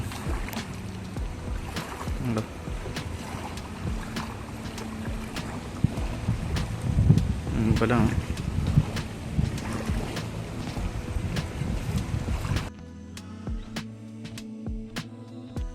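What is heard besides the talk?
water waves lapping like the sea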